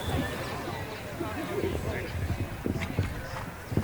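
Show-jumping horse galloping with a big stride through a jump-off course, its hoofbeats thudding in a quick rhythm under an announcer's commentary and a faint crowd murmur.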